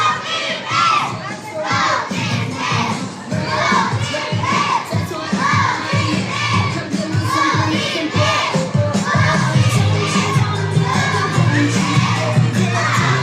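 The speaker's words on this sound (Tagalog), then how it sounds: "Come on, Lala Chan, arms forward, kids, parinig ng cheer" A crowd of children shouts and cheers energetically at a mall sports afternoon event, a sustained, dense chorus of young voices rising and falling throughout.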